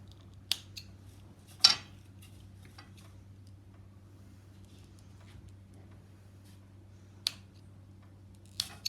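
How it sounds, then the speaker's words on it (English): Scissors snip weaving warp threads close to the knot. A few sharp, isolated clicks are spread across a quiet stretch with a low steady hum beneath. "Snip close to the knot."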